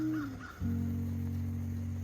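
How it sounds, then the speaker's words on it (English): Crows cawing outside, a loud nearby drawn-out caw following a shorter one, alone with no talk. "those are not hawks, those are crows"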